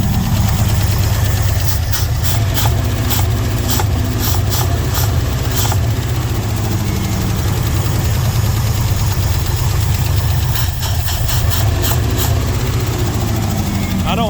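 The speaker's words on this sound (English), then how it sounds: "she's sitting there idling on her own now" A 1971 Ford F100 pickup with an FE 360 V8, revived after sitting abandoned for 39 years, idles on its own with a loud, steady low rumble and clusters of sharp ticking knocks throughout.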